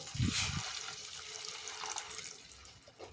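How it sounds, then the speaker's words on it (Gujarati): About a cup of hot water is poured into simmering gravy for green pigeon pea thotha. A brief splashing pour comes first, then a soft, quiet liquid wash, with no talking. "હવે આપણે એમાં એક કપ જેટલું આપણે ગરમ પાણી ઉમેરીશું"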